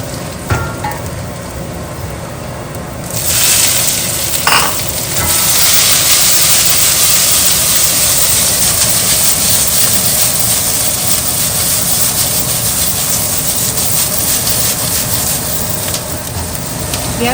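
Garlic and red chilies hit a smoky hot pan for a tofu pepper stir fry, bursting into a loud, steady sizzle that holds for many seconds close up, with no talking.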